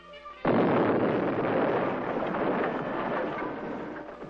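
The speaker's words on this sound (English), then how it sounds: "The charge is detonated." A demolition charge detonates during 1960s village-defense training in Vietnam, a sudden loud blast after a brief quiet moment, followed by several seconds of heavy rumbling roar and debris noise.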